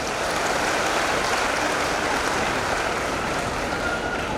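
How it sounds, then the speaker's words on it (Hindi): An audience claps for the stage at an outdoor tree-planting event in Indore with ministers present, a dense, steady wash of applause holding at an even level throughout with no talking. "पूरे मंच के लिए एक बार ताली बजा दीजिए"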